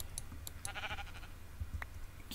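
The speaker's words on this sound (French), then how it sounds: "Le mouton!" Sheep bleating in Minecraft: a short, nasal bleat rises clearly over a busy background of game noise and low rumbling, with no voices present.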